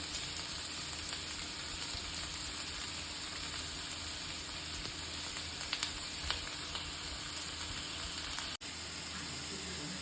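Green chili and curry leaves sizzle steadily in hot oil at close range, a dense continuous crackle holding even for about ten seconds with a brief clatter near the end.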